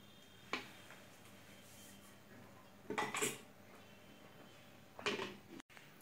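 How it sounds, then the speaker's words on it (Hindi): Sweet lassi served into two glasses, heard as three brief, sharp glassware and utensil clinks spaced a couple of seconds apart in a quiet kitchen, with no talking. "अभी दो ग्लास में मैं सर्व कर लेती हूँ।"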